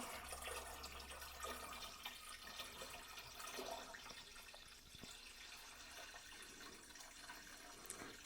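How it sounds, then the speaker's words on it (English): Water runs steadily into a fermenting vessel as a mead batch is topped up to 2 gallons, a continuous close splashing fill with no talking. "let's go ahead and add some of our water. Bring it up to 2 gallons"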